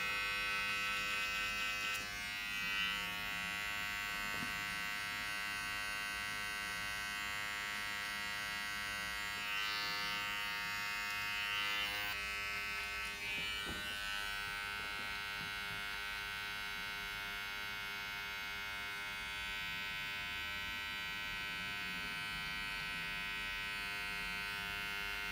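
Electric hair clippers buzz steadily and close up as they taper and sharpen the hair on the side of the head. The drone carries on without a break, with brief changes in tone as the blade moves.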